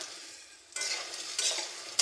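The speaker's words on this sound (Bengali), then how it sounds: "আলু দিয়ে আমি আরেকটু নেড়ে চেড়ে ভেজে নিব।" Potatoes and soya chunks stir-fry in a hot pan, the sizzle jumping louder as a spatula scrapes and tosses them in short bursts, close and clear with no voices.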